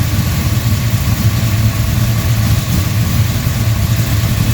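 Engine fitted with Edelbrock Pro-Flo 4 EFI on a DCI Motorsports RA5 idles steadily after an ice-cold start, a close, continuous low rumble with an even, unchanging throb and no revving.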